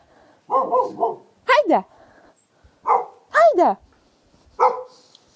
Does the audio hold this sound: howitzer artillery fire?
no